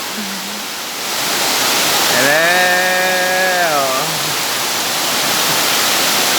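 Sai Yok Noi waterfall in Thailand pours with a steady, full rushing roar close by, while a brief sustained tonal sound rises over it midway and a voice speaks briefly.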